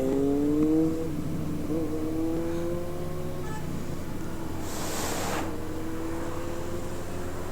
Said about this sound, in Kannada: ಸ್ವಲ್ಪ ವಾರ್ಮ್ ಆಗಲಿ ಗಾಡಿ.